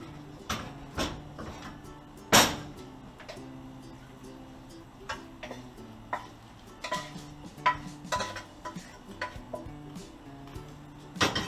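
Chicken and cauliflower rice are stirred together in a pan, with a spoon making irregular light clicks and taps against the metal over a quiet background and no talk.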